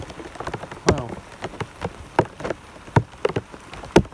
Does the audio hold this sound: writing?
no